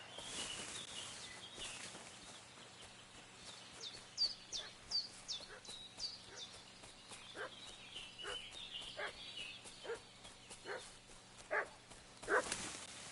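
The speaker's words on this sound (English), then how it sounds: "What's that dog making such a fuss about?" A dog barks repeatedly in Kingdom Come: Deliverance II, a steady run of fairly distant barks with birds and fowl calling in a quiet outdoor scene.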